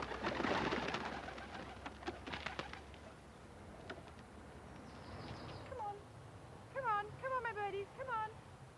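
Pet doves kept at a house on the edge of a nature area in Fairford, a Cotswold town, give a few soft rolling coos near the end, after a stretch of rustling and thumping handling noises.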